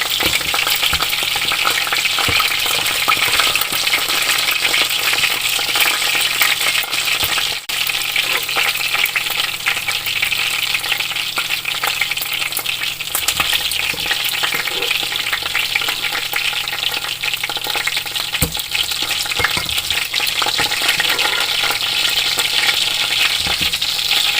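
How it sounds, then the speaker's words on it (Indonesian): Korean-style fried chicken pieces frying a second time in hot oil for crispiness, a loud, close, continuous sizzle with occasional stirring clinks and no talking. "ini ayamnya kita akan goreng lagi supaya crispy"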